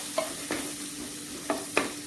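Onions cooking in a pan for a ridge gourd and soya curry: a soft, continuous sizzle broken by a few brief stirring clinks, close by.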